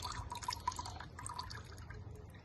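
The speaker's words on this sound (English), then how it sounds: "Let the oil drain." Engine oil drains from a Sinnis Terrain 125cc Euro5 motorcycle during an oil change, a faint, steady trickle with small drips running for a few seconds with no talking.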